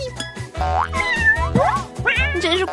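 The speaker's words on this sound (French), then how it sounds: "Quel joli chaton!" A kitten meows several times, high and close, over a bright, busy cheerful music background in a playful kitchen scene.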